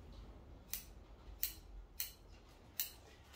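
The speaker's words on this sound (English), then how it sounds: "So let's just trim the tree." Pruning shears snip a small Australian native bonsai tree in mallee style, four crisp separate cuts spaced through a quiet room, close and fairly soft.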